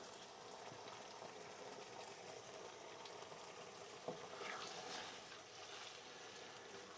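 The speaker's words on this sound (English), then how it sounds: "You'll be able to hear it, it's bubbling away." Italian-style protein-packed sauce simmering in a pan, a faint, steady bubbling and sizzling hiss heard close up, with a small clink partway through and no talk.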